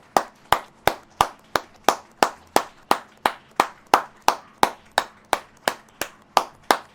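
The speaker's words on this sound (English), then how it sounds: "A great big applause for the Argentum Bride of Yahweh." A single person claps in a steady, even rhythm, about two or three sharp slaps per second, close and crisp, at a church gathering.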